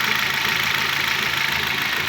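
A 2011 Hyundai H-1 engine idles steadily, with a dense, continuous mechanical rumble and faint knocking texture throughout, close to the microphone and with no talking.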